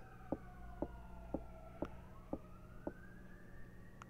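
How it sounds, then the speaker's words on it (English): Emergency vehicle sirens in a Seattle neighborhood, a faint, distant wailing tone that slowly rises and falls, with a regular ticking pulse about twice a second over a low steady hum. "Stupid sirens."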